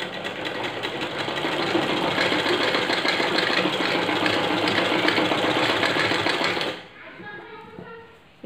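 A sewing machine stitches baby bloomers in a fast, continuous mechanical whir for several seconds, then stops abruptly, leaving faint handling sounds.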